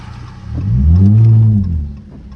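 A straight-piped Dodge SXT revs up to a loud, deep, droning exhaust roar that swells and fades as the car slides on a rain-soaked road, close and alone.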